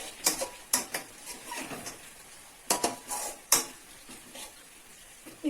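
A spoon clatters and scrapes against a pan while onion paste is stirred over a medium flame, in several sharp metallic knocks with a soft sizzle underneath and no talking.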